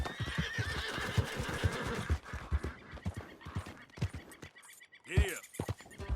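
In Red Dead Redemption 2, a horse snorts and whinnies over a steady run of clip-clopping hooves, with a loud neigh near the end and a voice talking faintly underneath.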